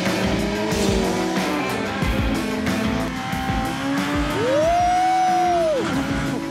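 A fast passenger ride in a race car roars steadily and loudly from inside the cabin, engine pitch rising and falling, with a sharp tire squeal sweeping up and down near the end.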